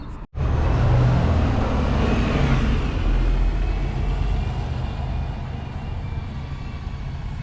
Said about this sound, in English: there goes our first bus. That is a Stagecoach Via 400 MMC